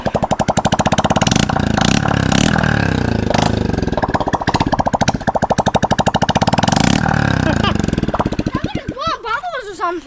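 Honda CRF110 pit bike with a new aftermarket exhaust revving hard, a loud, close, pounding single-cylinder burble in rapid pulses that falls to a rough idle near the end, with voices underneath.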